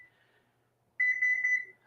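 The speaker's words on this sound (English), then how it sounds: "I'm going to set the timer for 40." Kitchen oven timer being set to 40 minutes, a faint beep at the start, then a brief run of loud, close electronic beeps after a pause.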